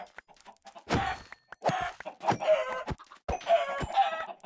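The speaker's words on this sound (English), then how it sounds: "I just heard chickens." Chickens loose everywhere give several short, close clucks and squawks, overlapping in uneven bursts with brief pauses between them.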